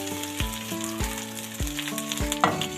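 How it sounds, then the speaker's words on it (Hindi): Onions sizzle in a hot pan as okra goes in and is stirred, with crackling frying and several sharp stirring scrapes and clatters, close up and with no talking. "तो ये देखिए हमारे प्याज को फ्राई होते तकरीबन 5 से 6 मिनट हो गया है"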